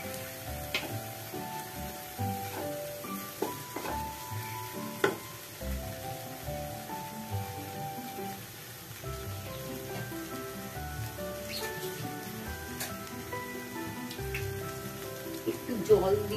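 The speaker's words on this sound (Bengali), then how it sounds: "দিয়ে এবার মশলাটাকে আমি কষাবো" Spice paste with Kashmiri chilli powder frying in a pan for a borboti and motor dal dish, a continuous soft crackling sizzle like light rain with occasional stirring knocks throughout.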